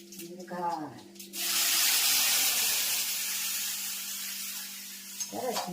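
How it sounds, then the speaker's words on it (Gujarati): Mustard seeds, cumin and chili powder hit hot oil for a kadhi tempering and burst into a loud, hissing sizzle that slowly fades over several seconds, with a voice briefly speaking before and after. "સરસ મજાનો કઢીનો વઘાર"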